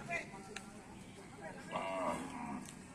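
Jabres cattle moo at a livestock spot, a couple of low, drawn-out calls at moderate distance over faint background noise and murmuring.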